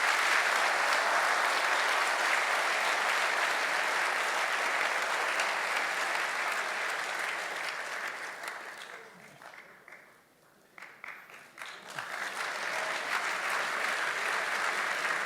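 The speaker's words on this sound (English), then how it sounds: "I'd like an applause for John Lennox" An audience at a science and faith lecture applauds John Lennox with steady, full clapping that thins and nearly dies out midway, then swells again with scattered claps before returning to a dense, even roar.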